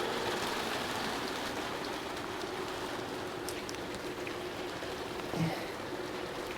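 Steady rain falling outdoors, a continuous broadband hiss of drops on surfaces that stays even and fairly loud throughout, with one brief soft knock near the end.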